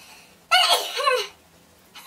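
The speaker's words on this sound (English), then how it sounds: "I sneezed really funny because of my collarbone." A single sharp, odd-sounding sneeze, strained by a collarbone injury, bursts out close by, lasting about a second, with a short breathy trail after it.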